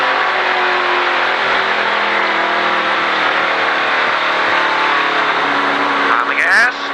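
A stock car on an oval race track during a Richard Petty driving experience at Disney, its engine roaring loud and steady with strong harmonic drone throughout, a voice speaking briefly over it.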